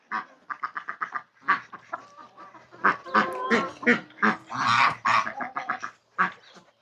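A flock of ducks quacking in rapid, repeated bursts, close by and fairly loud, with a few honking calls mixed in.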